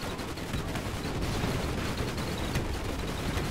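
Flak bursts and rifle fire in the airship battle game Airships: Conquer the Skies, a dense continuous crackle of rapid shots and dull explosions at steady loudness throughout.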